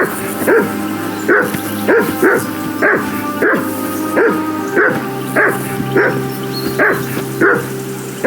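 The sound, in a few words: dog barking in Kingdom Come Deliverance 2 video game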